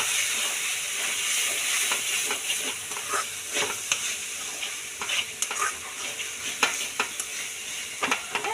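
Onion sautéed with ginger, garlic, chili and pepper paste in a pan for chicken curry, a steady close sizzle under frequent scraping stirs and clicks of a spoon, with no talk.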